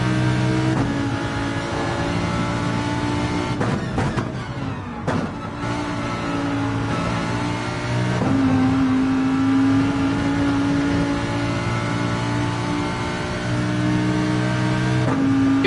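A race car engine in a racing video game drones steadily and loud, its pitch climbing and dropping through gear changes and revs, with brief rattling bumps midway and no talking.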